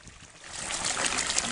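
Geothermal spring water trickling at a village in Honduras, a short steady rushing flow that builds slightly louder, close by with no talking.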